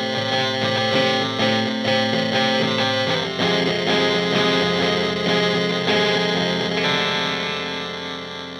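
An electric instrument run through a Hotone Krush bitcrusher pedal rings out with buzzy, gritty, lo-fi 8-bit sample rate reduction, sustained chords changing a few times and slowly fading, with no talking.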